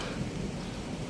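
Steady, dense hiss of rain with a low rumbling underneath, continuous and fairly soft, no voices.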